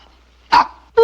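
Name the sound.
small dog barking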